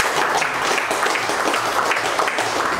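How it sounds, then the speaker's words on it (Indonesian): Audience clapping at a business forum table talk, a continuous dense burst of applause from a room of people, fairly loud and unbroken for a few seconds. "Silakan tepuk tangan dulu."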